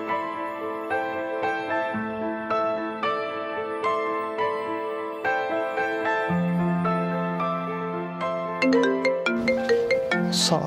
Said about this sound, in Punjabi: ਸਵੇਰੇ ਸਵੇਰੇ ਕਿਹਦਾ ਫੋਨ ਆ ਗਿਆ